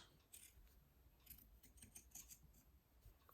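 Scissors snip through fabric scraps in a series of short, crisp cuts at close range during crumb piecing, with a louder final snip right at the end.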